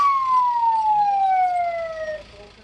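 An ambulance driven through Sawahan, Surabaya, wails with a single long descending siren tone, loud and close, fading toward the end.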